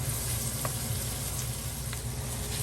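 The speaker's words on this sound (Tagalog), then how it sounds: "Ihintayin lamang po nating maluto itong ating bawang at sibuyas" Garlic and onions frying in a pan for lechon paksiw, a steady close sizzle with faint crackles and pops throughout, no talking.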